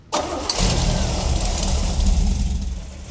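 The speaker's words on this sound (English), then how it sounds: "this is when you bring the motor up to temperature to begin the break-in process" A COPO car engine cranks and catches, then settles into a steady, rumbling idle while warming up for break-in, loud and close throughout.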